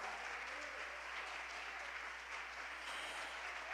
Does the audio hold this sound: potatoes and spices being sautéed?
no